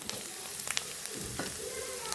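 Grated coconut frying in oil along with mustard seeds, rice, green chillies and curry leaves, heard as a soft, steady sizzle with light crackles and a brief stirring scrape, quiet and close.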